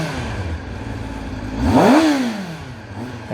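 A stock-exhaust Kawasaki Ninja ZX-10R idles close by, then revs once in a quick rising and falling blip before settling back to a smooth, mild idle.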